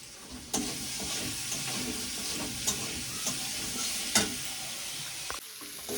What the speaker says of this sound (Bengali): আলুগুলোকে আমার ভালো করে ভাজা ভাজা করে নিচ্ছি